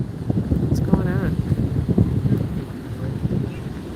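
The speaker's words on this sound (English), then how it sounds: "It could be a little less windy, but you'll take it." Wind at a Gulf coast beach in Florida buffets the microphone with a low, gusty rumble under a person talking.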